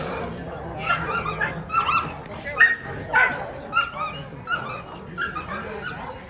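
A dog at a Pit Monster training course barks in short repeated yips and whimpers, moderately close, with bursts spaced irregularly over several seconds and people talking in the background.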